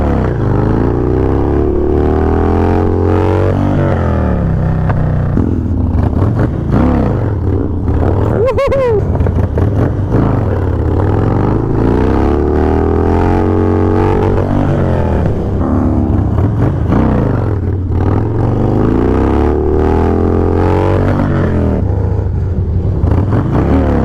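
A Harley Davidson motorcycle engine revs repeatedly during wheelie practice at a stunt lot, with loud rising and falling throttle swells over a continuous close rumble, and a voice talks over it.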